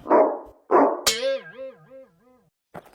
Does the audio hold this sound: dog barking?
yes